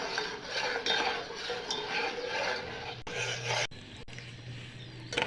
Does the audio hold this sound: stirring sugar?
yes